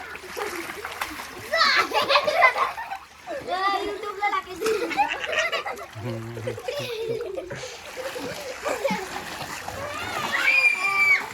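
Water splashes in a resort swimming pool again and again while girls talk and shout nearby.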